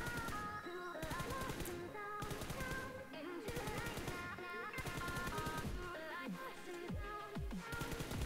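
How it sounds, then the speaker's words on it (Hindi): M4 rifle burst fire in a shooter video game: loud rapid volleys of shots in repeated bursts across the clip, set against a steady tonal game backdrop. "एक बर्स्ट मारिए 10 से 15 गोलियों का, क्योंकि उसी से बंदा नॉक होगा।"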